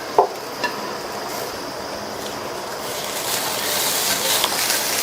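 Boiled beans and carrot being stirred in a frying pan for a Tamil-style poriyal side dish, a steady soft sizzle and hiss with a couple of light scrapes of the spoon near the start, close and without talk.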